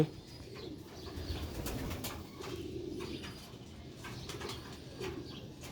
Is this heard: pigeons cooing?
yes